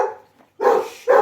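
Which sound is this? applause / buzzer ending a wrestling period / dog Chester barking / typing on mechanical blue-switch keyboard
dog Chester barking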